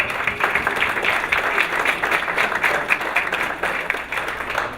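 A conference audience bursts into sustained applause as a speaker is welcomed to the stage, dense clapping filling the room and holding strong before tapering slightly toward the end.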